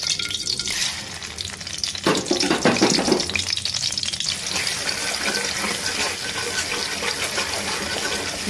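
Ground prawn paste frying in oil in a pan, a dense continuous sizzle with scraping stirring strokes, loudest in the first few seconds and then settling into a steady hiss.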